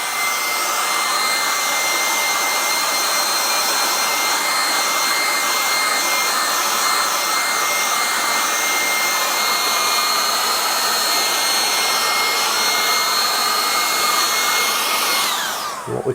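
A hair dryer blowing steadily and loudly for a long stretch to dry acrylic paint on a wren painting. The whir is constant and close, then cuts off at the end.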